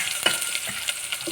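Chopped onion, mustard seeds, urad dal and cumin frying in hot oil as the tempering for a village-style black-eyed pea curry, a close, continuous crackling sizzle with small popping bursts.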